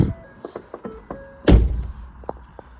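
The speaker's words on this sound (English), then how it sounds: "Close this door." A car door is shut with a single solid thunk partway through, preceded by small clicks and knocks from handling the vehicle during a diagnostic check, fairly close and loud against a quiet background.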